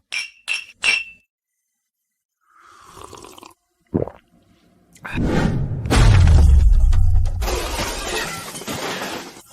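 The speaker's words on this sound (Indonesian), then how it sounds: "Ayo, kita bersulang dulu." Glasses clink together in a whisky toast among three people at a table: a few sharp, bright chinks at the start, then talk, followed by a loud crash of glass and a jumble of noise.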